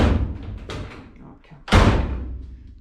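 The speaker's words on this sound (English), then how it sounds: "It's shutting alright, just took a bit more slammage than I would have liked." A car door, on a vehicle being fitted with an air ride system, is slammed shut with one loud, close thud after a quieter knock, amid faint background noise.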